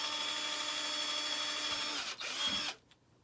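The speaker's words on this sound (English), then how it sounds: "I'm going to hold on to this and I'm going to drill down" A small drill bit bores through a wooden sign, giving a steady high whine for over two seconds, a brief dip as it breaks through, then a short burst before the drill stops abruptly; close and fairly quiet.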